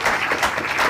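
An audience at a political talk applauds in a short, loud, dense burst of many clapping hands, with no voices over it.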